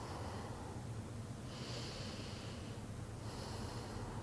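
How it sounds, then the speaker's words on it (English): Long, slow Ujjayi yoga breaths, steady hissing airflow drawn in and out through the throat, heard alone and close with a faint constant background. "I'll take 3 long Ujjayi breaths."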